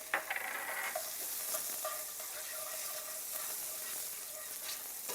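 A tablespoon of butter melts and sizzles in a pan on the stove, a soft steady crackling hiss with a few faint scrapes and taps near the start.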